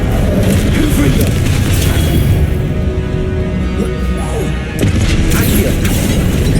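A Confringo spell blast booms amid loud, dense Hogwarts Legacy combat, with heavy low-end impacts and crashing effects running continuously and a brief dip before another burst.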